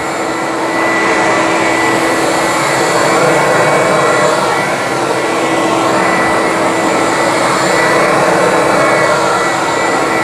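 A Bissell Big Green deep-cleaning carpet machine runs steadily indoors, a loud continuous motor whine and suction roar with a steady tone, holding constant for the full stretch with no talking.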